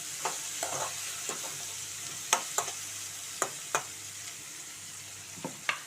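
Dried prawns and cucumber frying in a pan, a steady sizzle broken by repeated sharp scrapes of a spatula stirring at an irregular pace.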